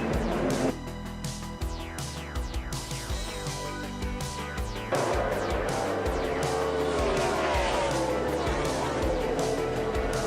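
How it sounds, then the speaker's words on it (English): A NASCAR race car crash in turn two, heard as loud, continuous engine roar and shrieking tire squeal from a dense racing field, with crowd or commentary noise layered underneath throughout. "Oh, big crash in turn number 2, David Ruderman."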